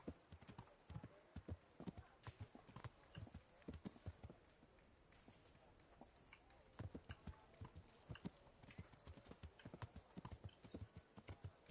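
Horse hooves clip-clop at a steady trotting rhythm in the medieval game Kingdom Come: Deliverance, an unbroken run of crisp, fairly quiet hoofbeats with a possible brief whinny.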